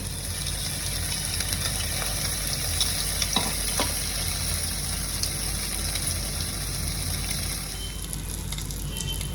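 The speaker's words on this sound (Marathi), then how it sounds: "ह्याला पण आता तव्यावर मी शेकायला ठेवते" Potato-coated masala French toast bread slices frying on a tawa, a steady close sizzle running throughout with a few brief clinks of a utensil, no talking.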